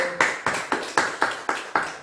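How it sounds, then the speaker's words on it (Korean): A congregation claps together in welcome during a church worship service, a steady rhythm of about eight sharp strokes that start and fade evenly, close and loud, with no talking. "우리 오복순 어르신을 위해서 환영의 박수 올려드립니다"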